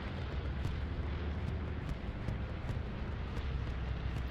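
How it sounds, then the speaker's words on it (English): Continuous rumbling bombardment from a bombing run in the World War II shooter Hell Let Loose, a dense low roar of overlapping explosions with faint periodic pops, steady and somewhat distant, with no talk. "I do hear a bombing run."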